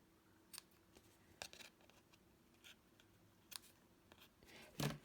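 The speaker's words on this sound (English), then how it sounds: "Just trim this off." Scissors trim the edge of a stamped paper card at a crafting table, a few quiet, close snips spaced out over several seconds.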